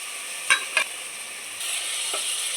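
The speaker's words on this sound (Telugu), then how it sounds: "మటను మసాలా అంతా బాగా ఫ్రై చేసుకోవాలి కలిపేసి" Mutton masala for biryani being stirred and fried in a pot, with two quick scraping knocks of the spoon early on, then a steady hissing sizzle that grows a little louder and continues to the end.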